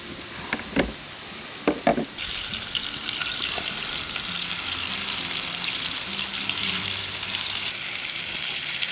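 Lean game meat, partridge or woodcock, frying in a pan, a steady close sizzle after a few sharp knocks at the start, with no talk over it.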